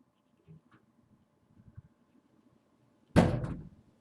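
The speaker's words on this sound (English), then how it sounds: "That was actually my bedroom door." A bedroom door is slammed shut by a strong wind, a single loud, sharp bang with a short rumbling decay that breaks a quiet room after a few faint knocks.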